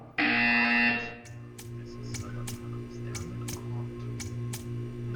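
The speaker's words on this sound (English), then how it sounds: "You will hear a buzzer." A loud, harsh buzzer in Portal 2 blares for about a second, then a quieter steady hum continues with regular ticking clicks.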